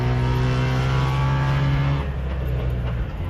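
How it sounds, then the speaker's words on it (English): A two-stroke Subaru 360 car drives loud and close, its engine droning steadily with a strong low hum that shifts pitch partway through, suggesting a gear change or easing off the throttle. "Car's running great."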